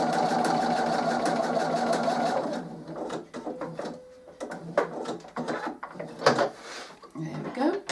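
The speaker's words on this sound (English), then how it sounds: "I'm going to just top stitch on the top." A sewing machine runs a steady top-stitching line along a fabric pen holder bookmark for a couple of seconds, then stops, followed by scattered clicks and handling noises with some talking.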